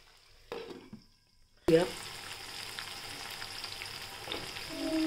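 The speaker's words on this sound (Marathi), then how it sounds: "छान परतून घेऊ आपण" Spiced leftover rice with mint sautés in a pan, a soft sizzle rising suddenly after a quiet pause and continuing with light stirring scrapes, close and moderately quiet.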